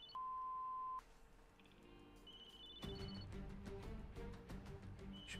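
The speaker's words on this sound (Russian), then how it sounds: "в комнате слышен звук телефона" A mobile phone in a room gives a steady electronic beep lasting about a second, followed by a short pause and then a burst of layered tonal chimes and ringing notes, moderately loud and close.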